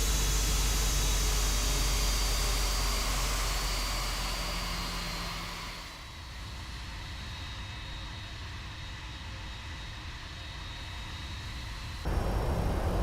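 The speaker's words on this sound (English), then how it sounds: "Let's go ahead and do a flyby." A Flight Factor Boeing 767-400 ER airliner makes a flyby in X-Plane 11, its loud jet engine roar filling the first half and then dropping to a steadier, softer whine before rising sharply near the end.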